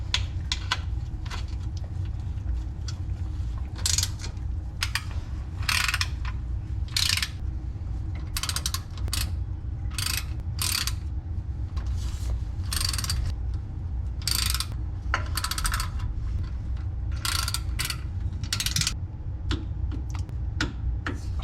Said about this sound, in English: then we'll torque it